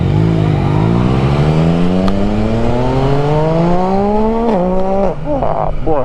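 A Yamaha Tracer 900 motorcycle engine revs loud and close, pitch climbing steadily over several seconds before a few sharp throttle blips near the end, with no talk.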